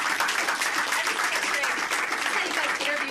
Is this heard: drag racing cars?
no